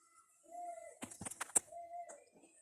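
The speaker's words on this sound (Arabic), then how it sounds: "طبعا الناس تتفرج على الحمام براحتها" Pigeons kept for sale give a few soft, low coos under a brief burst of sharper clattering and rustling noise, faint and close, with no talking.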